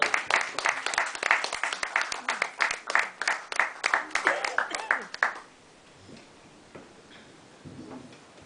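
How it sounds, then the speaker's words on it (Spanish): Small audience at a literary and arts café evening gives a round of applause, sharp distinct claps from a modest group for about five seconds, then fading to quiet room noise. "pido un aplauso"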